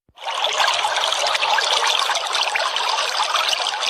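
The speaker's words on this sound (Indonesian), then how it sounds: "suara air mengalir," Steady flowing water trickles and splashes in a continuous broadband rush, close and even in level from start to end, with no voices.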